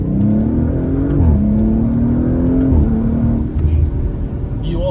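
A 2021 Audi RS5 Sportback accelerating hard in manual mode, its engine note rising steadily from inside the cabin with a shift dip midway, loud and continuous with no talk.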